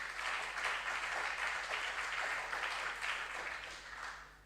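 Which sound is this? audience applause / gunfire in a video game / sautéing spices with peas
audience applause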